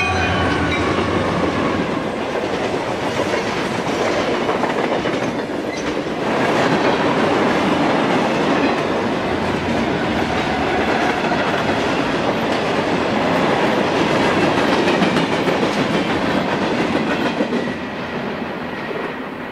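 A long CSX freight train rumbles past steadily and loudly on the Toledo Subdivision in Ohio, wheels clattering over rail joints in a continuous roar with occasional faint squeals, no voices.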